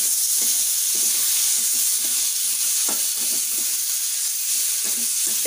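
Tomatoes sizzle and fry in a pan of Bengali tomato fish curry, a steady broadband hiss with soft stirring scrapes and small pops throughout, no talking.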